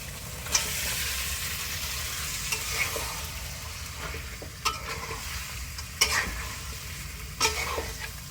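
Duck meat frying in a pan with spices such as cumin and coriander powder, a dense continuous sizzle with scattered scraping and stirring knocks, close and fairly loud, with no talking.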